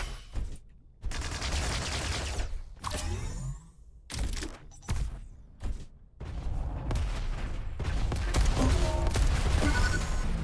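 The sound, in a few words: series of rockets fired in a video game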